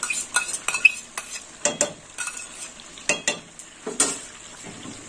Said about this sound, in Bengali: চামচ দিয়ে দইটা দিয়ে দেবো।